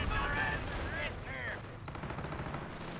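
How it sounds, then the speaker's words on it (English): Sector artillery fire in the video game Company of Heroes, heard as a dense clatter of gunfire and explosions under someone talking. "Got more sector artillery in this sector."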